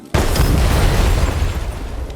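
A vehicle explodes in Far Cry 6 after being hit by shotgun blasts, a sudden loud boom followed by a sustained roaring, crackling rumble of flames that slowly fades.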